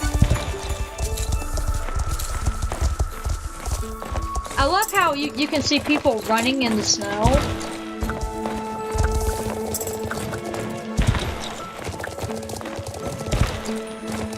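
Rhythmic clip-clop of horse hooves in a horse-riding video game, with a whinny partway through and a person talking over the hoofbeats.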